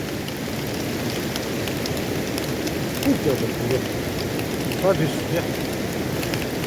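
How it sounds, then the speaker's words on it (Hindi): Rain falls steadily outdoors, a continuous broad hiss of drops on surfaces, with a few faint brief knocks and muffled sounds partway through. "बारिश गिर रहा है"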